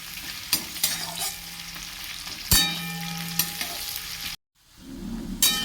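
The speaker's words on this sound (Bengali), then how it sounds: "পেঁয়াজ ও রসুন, 5 ফোড়ন, শুকনো লঙ্কা, তেজপাতা, পেঁয়াজ রসুন ভালোভাবে ভেজে নেব।" Onion, garlic, panch phoron, dry red chilli and bay leaf frying in hot oil, a steady close sizzle broken by several sharp stirring scrapes and clanks, with a brief silent gap near the end before the sizzle returns.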